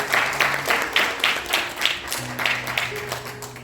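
An audience claps in a steady rhythmic beat at a 100th-anniversary jubilee concert for a national poet. The claps are moderately loud over a low, steady hum, with no speech.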